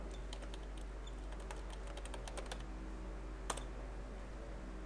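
Rapid keystrokes on a computer keyboard, a run of close, crisp clicks with short pauses and one louder tap near the end, set against a steady low hum.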